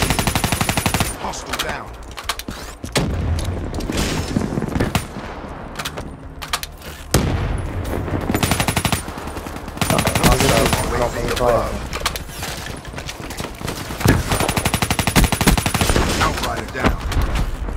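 Gunfire in the video game Black Ops 3 Beta, dense automatic bursts and single shots in repeated volleys under radio-style voice callouts and game announcements, loud and close throughout.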